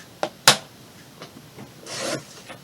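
Paper for a lap book is trimmed, with two quick sharp snips followed by softer scraping and a longer rustling cut, close and fairly quiet with no talking.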